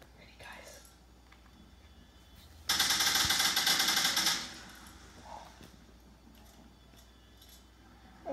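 A burst of rapid automatic gunfire in a video game rattles loudly for about a second and a half, set between quieter stretches of low chatter and small clicks.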